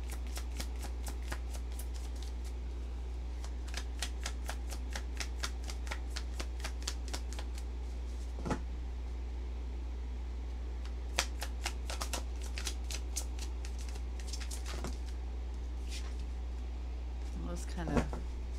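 Tarot cards are shuffled in quick flurries of crisp riffling flicks, broken by short pauses and a few single card snaps as cards are drawn, fairly close and moderately quiet over a low steady hum.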